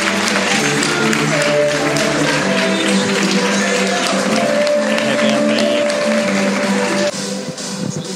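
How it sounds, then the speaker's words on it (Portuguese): A live audience applauds as a couple of guest speakers are welcomed onstage, steady broadband clapping running continuously beneath loud, sustained tonal music for the whole stretch, easing slightly near the end. "gostaria que vocês recebessem com uma grande salva de palmas o casal, né, que vem diretamente de São Paulo, Leona"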